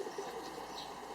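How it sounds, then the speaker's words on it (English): A pigeon of the kind found in cities gives a soft, brief coo, faint and on its own, with no voices. "Listen to the pigeon cooing."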